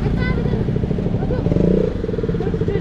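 A motorcycle engine runs close by, a rough, throbbing idle that swells into a brief rev midway, with someone talking over it on a Kathmandu roadside.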